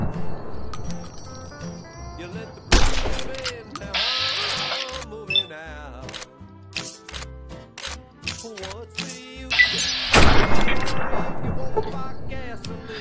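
Gunfire aimed at a gecko in Fallout New Vegas, two sharp loud shots a few seconds apart, each followed by reload and mechanical clicks, amid game effects and a player talking.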